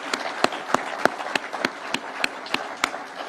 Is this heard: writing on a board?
no